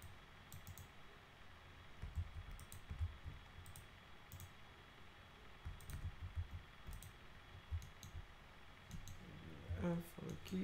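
Computer keys clack in scattered soft clusters while a person talks through most of the stretch, the tapping faint and fairly close in a quiet room.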